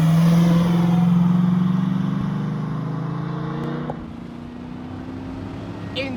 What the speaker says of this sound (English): Enjoy that bellowing V8.